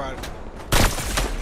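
Gunshots ring out during a Fortnite match: a few sharp, loud cracks in quick succession, the strongest in the middle, with a faint voice in the background.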